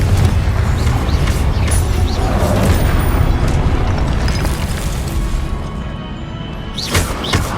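Confringo fire-blast spell cast in Hogwarts Legacy, a loud continuous booming explosion roar filling the clip, with a couple of brief crackling bursts near the end.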